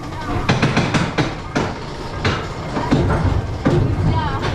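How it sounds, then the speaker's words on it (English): A small mine train roller coaster rattles along its track at Walibi Belgium, with close, loud clacks and clunks in an uneven rhythm over a steady rumble. "So here we are on Walibi Belgium's little mine train."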